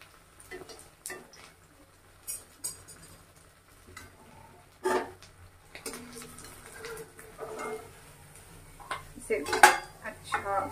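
Bread cutlets frying in a pan give soft, scattered clinks of utensils against the cookware, with a few sharper knocks and scrapes toward the end over a faint background hum; no one speaks.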